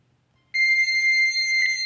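A quiz countdown timer for a scholarship exam mental ability round starts abruptly after half a second of near silence, then holds a steady, loud electronic tone with bright ringing harmonics, alone.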